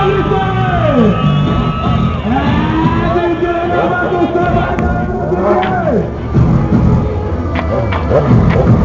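A crowd at a motorcycle rally in Votuporanga, Brazil, shouting and yelling loudly in overlapping voices, with whoops and bellows rising and falling over a rumbling engine in the background.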